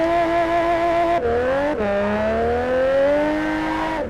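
A drifting car's engine in the video game Japanese Drift Master roars and revs loudly, pitch climbing and dropping between shifts, with tire squeal mixed into the drift.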